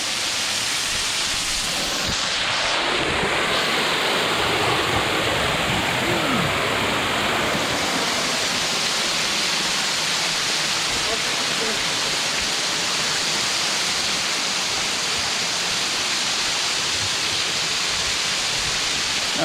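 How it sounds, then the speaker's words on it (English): A waterfall in Pisgah National Forest roars steadily and close by, a dense, unbroken rush of falling water that fills the whole stretch. "That's the second waterfall."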